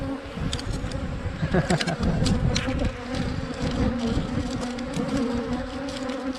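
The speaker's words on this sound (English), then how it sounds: "I've got bees covering you." Dense honeybee buzzing surrounds the listener during an inspection of an aggressive hive, a steady swarm hum with individual bees darting close and loud throughout.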